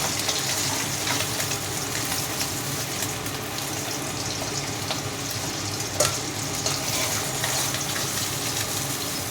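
Pabda fish lightly frying in oil, a continuous loud hissing sizzle with occasional pops and clinks, steady from start to finish with no talk.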